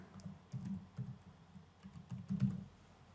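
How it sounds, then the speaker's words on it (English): Someone types a name on a computer keyboard: soft, quiet key clatter arriving in short bursts with brief pauses between them. "So just type in the name"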